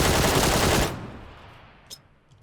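Rapid automatic gunfire in PUBG crackles loudly for under a second, then cuts off into a fading echo, with a faint single pop and small clicks afterward.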